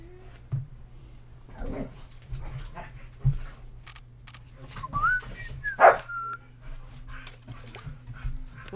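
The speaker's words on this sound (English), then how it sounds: "Will you take the dogs into Mom's room?" Dogs in a home give scattered soft whimpers and a few short barks, some close and some farther off, over a low steady hum.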